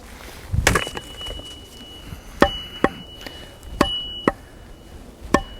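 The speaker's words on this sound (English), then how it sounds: "It's not biting very deeply into this wood" A Schrade SCAXE8 Phantom axe chopping into a block of wood, a series of sharp, separate woody strikes spaced irregularly, close and fairly clear against quiet surroundings.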